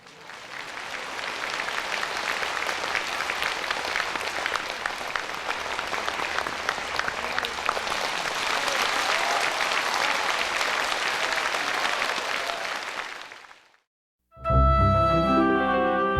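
Audience applause fills a hall, a dense, steady patter of many hands clapping for about fourteen seconds before fading out abruptly, followed by a brief burst of other sound.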